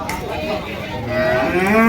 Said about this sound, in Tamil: வண்டி காளைங்க ஒரு ஜோடி. ஸோ வியாபாரம் முடிஞ்சு கொண்டு வராங்க பாருங்கள்.